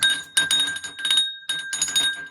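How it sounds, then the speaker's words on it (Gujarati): A small hand bell rings in quick clusters of bright metallic dings, two bursts separated by a short pause, close and clear with a sustained tone. "આ રીતની ઘંટી આવી છે"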